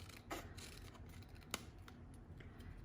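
Scissors cut out a paper scrapbooking design, giving quiet, close snips and a light rustle of paper against a soft background hiss, with one sharper click partway through.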